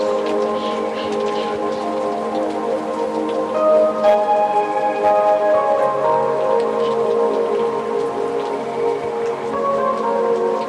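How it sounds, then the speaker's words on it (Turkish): A steady wash of flowing, pattering water runs continuously, with soft sustained musical tones underneath. "Evet, akan bir su sesi var."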